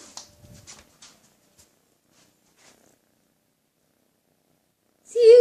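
A kitten purrs loudly and close to the microphone for a brief half-second at the very end, after a long near-silent stretch with a few faint scattered sounds.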